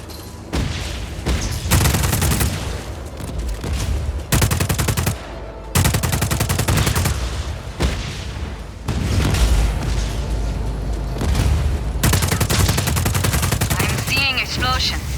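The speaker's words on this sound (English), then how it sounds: "That's a standard issue Black Hand service rifle. With an underbarrel grenade launcher." Service rifle gunfire in the video game Just Cause 4: long, loud automatic bursts with short pauses between them, heavy and continuous, plus a few booming hits.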